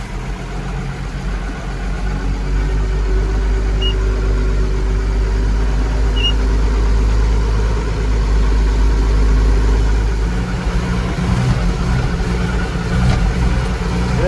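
A Massey 1200 tractor towing a fifth wheel runs steadily down the road, its deep diesel drone loud and continuous throughout, with a slight change in tone near the end.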